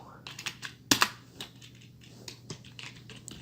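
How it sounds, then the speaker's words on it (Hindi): Keys clatter on a computer keyboard in an irregular run of close, crisp taps with one louder burst near the start, while a person talks quietly over the typing. "अब यहाँ पे मैं लिखता हूँ कुछ कीवर्ड।"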